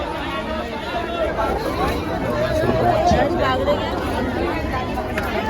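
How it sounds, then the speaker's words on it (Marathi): A dense crowd bustles at the early-morning fish market in Alibag, a steady babble of many voices and chatter with constant murmur close by and all around. "भरपूर अशी गर्दी आहे मार्केटला आणि इकडे बॉम्बे विक्री चालू आहे"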